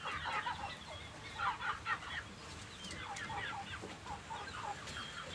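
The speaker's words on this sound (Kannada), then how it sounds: "ನೋಡಿ ಕೋಳಿ" Chickens clucking on a farm, several birds giving short repeated clucks and chatters at close range over quiet background noise.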